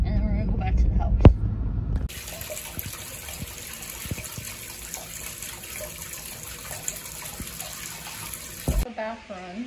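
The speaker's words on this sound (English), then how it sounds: "Bath runs." A bathtub filling from the tap, water gushing steadily with a hissing rush and low hum for most of the stretch, after a short stretch of household talk and a bump at the start.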